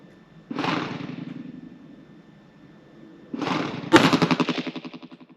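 A High Standard DM101 derringer chambered in .22 Magnum fires at an outdoor range from 15 yards, giving two sharp reports about three seconds apart; the second is followed by a rapid, rattling series of echoes.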